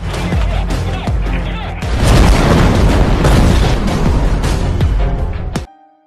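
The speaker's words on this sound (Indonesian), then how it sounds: "bom yang ada di rompi pun meledak saat tim pasukan khusus masuk" A bomb vest detonates in a film scene as a special forces team enters a hideout, a loud sustained roaring blast with crashing debris and deep rumble that cuts off abruptly into near silence.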